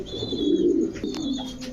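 Pedigree pigeons, including a black checker Mundian type, coo close by in a soft, low rolling call that swells and fades, with faint chirps above it and no talk.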